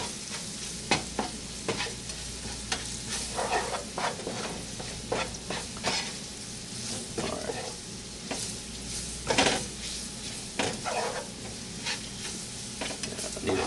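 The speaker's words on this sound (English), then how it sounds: "You gotta mix the oil and the flour." Flour being stirred into hot oil in a pan for sweet milk sausage gravy, with a continuous sizzle and fry under repeated scraping strokes of a utensil against the pan.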